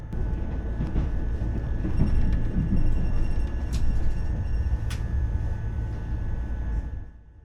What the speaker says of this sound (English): the slightly annoying squeaking sound the train made throughout the journey